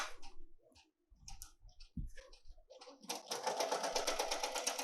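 An embroidery machine clicks and shifts for a few seconds and then settles into fast, steady, rhythmic stitching that carries on close and clear to the end.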